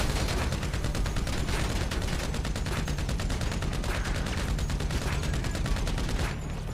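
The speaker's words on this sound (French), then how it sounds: "Non, la mitrailleuse de combat." Machine gun fire in a video game set in a Franklin mission: a continuous rapid stream of loud shots with a steady rhythm, close and sustained for several seconds.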